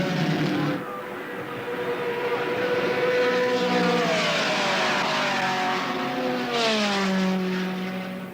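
Race cars lapping the 1965 Indianapolis 500 make a loud, continuous engine roar whose pitch sweeps up and down as cars pass, with no voices over it.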